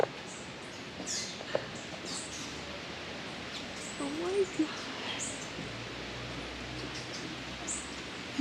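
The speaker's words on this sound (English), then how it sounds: "You hear all the birds?" Birds call and chirp faintly in a misty Ecuadorian cloud forest at dawn, scattered high calls over a soft ambient hiss, with a person briefly speaking.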